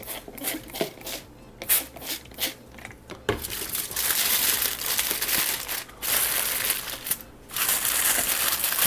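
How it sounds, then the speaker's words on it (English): Aluminium foil is wrapped around smoked spare ribs for a Yoder YS640S smoker, giving loud, close crinkling and crumpling in bursts, with short pauses and then longer continuous rustling. "this foil paper is obviously not big enough, so just wrap it once over."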